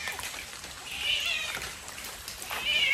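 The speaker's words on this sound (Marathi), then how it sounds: "एका मांजरीच्या पिल्लाचा आवाज येतोय मला." A kitten meows twice, thin high cries about a second and a half apart, in a village buried by a landslide, heard faintly over soft outdoor background noise.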